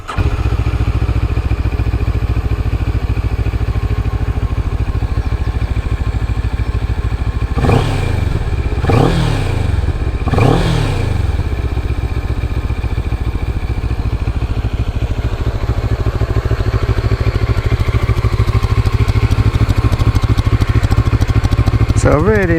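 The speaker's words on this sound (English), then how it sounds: "So a really nice small tailpipe there. It's got quite a nice bassy sound to it" A Moto Morini Seiemmezzo motorcycle idles close by with a deep, bassy exhaust thrum from its small tailpipe, broken by three quick throttle blips midway, then settling back to a steady loud idle.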